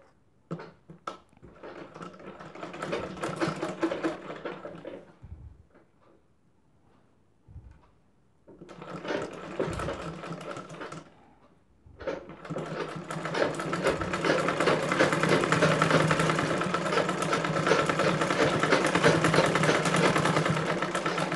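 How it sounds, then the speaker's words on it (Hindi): Sewing machine stitching the side seam of a blouse, running in bursts: a short run, a pause, another run, then a longer steady whirring stretch, close and fairly loud with no talk. "यहाँ पे साइड फिटिंग की एक सिलाई हमने लगा दी मजबूती के लिए"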